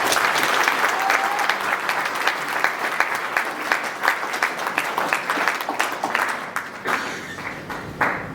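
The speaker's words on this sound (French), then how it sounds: "Je vous prie massivement d'applaudir pour lui" A large crowd applauds at an outdoor political rally for the transition president in Niayes, backing a referendum; the clapping is dense and sustained, staying loud across the whole stretch before thinning slightly near the end.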